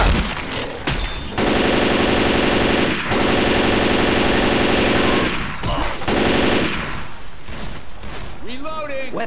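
Automatic gunfire in the co-op shooter game Left 4 Dead 2, long loud sustained bursts with short gaps between them, and players talking over the shooting.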